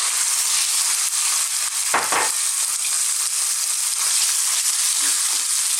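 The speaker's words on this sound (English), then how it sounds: "I'm now going to go in with my beef" Beef strips sizzle and crackle steadily in a hot stir-fry pan for a Chinese beef and beans dish, with a brief stirring scrape partway through and no talking.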